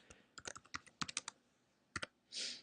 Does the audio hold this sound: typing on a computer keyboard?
yes